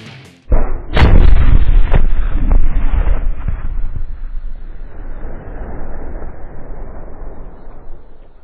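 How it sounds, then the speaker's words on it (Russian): One loud, heavy tank cannon blast booms out during a military firing exercise, followed by a long rolling rumble that slowly fades into the distance. "Задача первая – стрельба штатными снарядами по появляющимся и движущимся целям."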